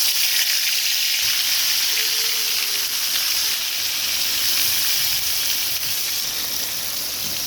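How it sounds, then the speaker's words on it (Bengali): Steady, close sizzling of rohu fish frying in hot oil, a bright continuous crackle and hiss that holds evenly throughout with no talking. "এখন আমি যে মাছগুলো ভাইজা নিতেছি"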